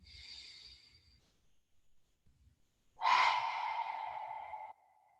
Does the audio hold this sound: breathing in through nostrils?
yes